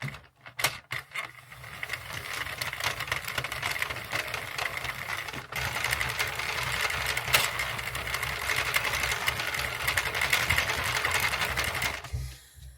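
A Sentro circular knitting machine knits rows for cosy slipper socks with a steady, loud mechanical clatter of ratcheting gears. The whirring runs continuously for several seconds after a few brief start-up clicks.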